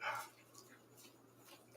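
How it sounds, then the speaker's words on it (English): A dog gives a short bark or yip near the start, then quieter whimpering follows under a faint background hum. "I don't want you barking out there."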